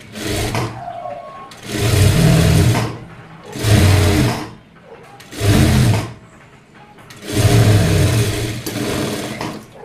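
A sewing machine stitches a blouse seam in four loud, close bursts of rapid mechanical whirring, each lasting one to two seconds, separated by brief pauses.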